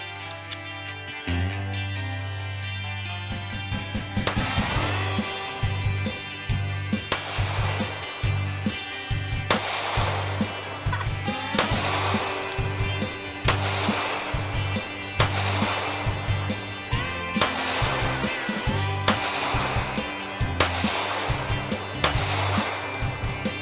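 A SCCY CPX-4 pistol fired outdoors, a slow series of sharp loud shots about two seconds apart, each with a brief ringing decay.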